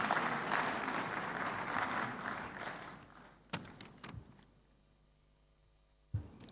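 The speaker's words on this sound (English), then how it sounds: "Let's welcome him with a round of applause." A conference audience in the main room of an African business summit claps loudly and densely for several seconds, then the applause thins into scattered claps and fades out, with a few faint isolated claps at the end.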